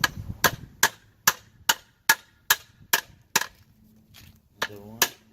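Sharp metal hammer blows strike a Kia Sedona suspension part during ball joint and control arm work, about ten loud, evenly spaced hits at close range, then a brief pause before two more strikes.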